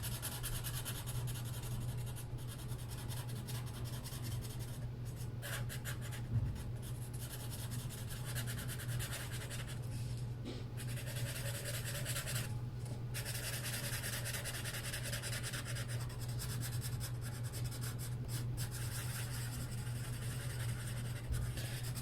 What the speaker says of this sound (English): we are going to take our blender pencil and we're going to go up and down for this one.